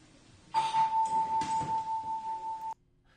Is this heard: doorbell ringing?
yes